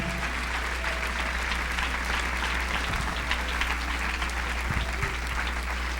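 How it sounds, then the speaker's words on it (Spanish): A church congregation applauds in worship, an even, sustained patter of clapping over a low steady hum, with a few louder thumps near the middle and end. "Dele palmas con todo su corazón al Señor."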